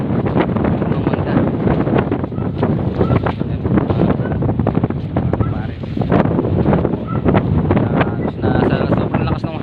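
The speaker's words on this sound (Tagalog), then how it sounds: "Sobrang lakas ng hangin." Strong typhoon wind buffets the microphone in a constant loud roar, gusting throughout with no letup.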